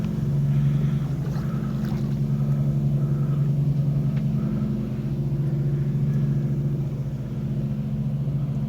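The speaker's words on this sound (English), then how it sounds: "It's a water motorcycle." A jet ski engine runs steadily with a loud, continuous low drone that holds level throughout, with no one speaking.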